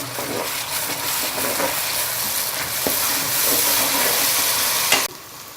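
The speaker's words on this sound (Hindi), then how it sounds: "अब हम इसके अंदर दही डाल देंगे और 3 से 4 मिनट के लिए इसको कुक करेंगे।" Yogurt stirred into tomato masala in a hot pan, with steady sizzling and frying broken by repeated scraping stirs, close and continuous, ending in a sharp clack of the spoon.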